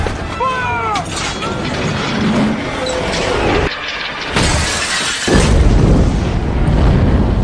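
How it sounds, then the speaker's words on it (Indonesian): A giant catapult blast wrecks a room with a loud crashing impact and shattering debris, followed by a heavy boom and rumbling, mixed with squeaking and scattered voices. "sebuah pelontar raksasa yang membuat ruangan Irwin hancur dan merusak semua koleksi barang"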